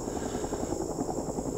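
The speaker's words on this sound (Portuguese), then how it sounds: "Se você acertar o helicóptero daqui." A steady helicopter rotor thumps continuously in the background of Rising Storm 2, fairly faint and distant, with no speech over it.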